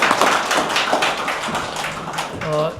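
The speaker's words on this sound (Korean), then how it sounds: "뜨거운 박수 부탁드립니다." Audience applause at a Korean peace and unification symposium: scattered, sharp claps from a modest crowd, tapering off before a voice briefly speaks near the end.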